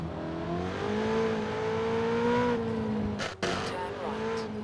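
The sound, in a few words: Ferrari 488 Pista engine in Forza Horizon 4 video game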